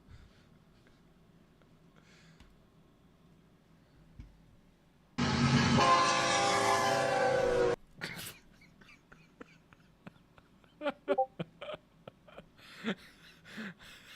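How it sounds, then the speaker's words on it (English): An American train passes with a loud, sustained horn blast of about two and a half seconds, preceded by quiet rail rumble and followed by scattered clanks, rattles and sharp bursts. "American trains are a bit different."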